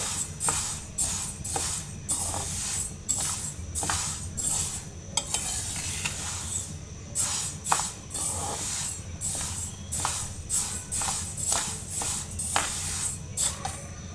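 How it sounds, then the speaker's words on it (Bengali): Chutki semai vermicelli dry-frying in a frying pan, with a spatula scraping and tossing in quick, repeated strokes about every half second over a low, steady hiss and rumble. The sound is close and no one speaks. "ফ্রাই প্যানের মধ্যে আমি এখন চুটকি সেমাইগুলো দিয়ে দেব"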